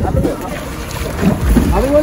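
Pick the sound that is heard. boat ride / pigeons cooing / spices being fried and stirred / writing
boat ride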